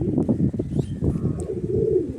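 A Madrasi or Andhra pigeon for sale in Howrah coos in low, rumbling bursts close up, with a faint flutter mixed in and no voices.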